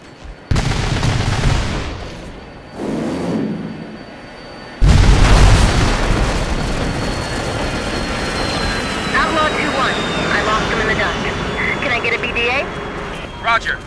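Gunfire and explosions ring out in Operation Flashpoint: Red River: a heavy boom, a quieter stretch, then a second loud blast giving way to sustained rumbling combat with crackling shots and a background engine drone.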